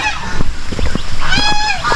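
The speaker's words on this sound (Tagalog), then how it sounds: "Pati mga gansa." Several geese honk loudly and close by, overlapping nasal calls repeating in quick succession.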